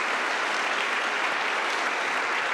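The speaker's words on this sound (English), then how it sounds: "Huge round of applause, please." A conference audience claps loudly and steadily throughout for a lightning-talk speaker coming on stage, a dense, continuous round of applause with no talking.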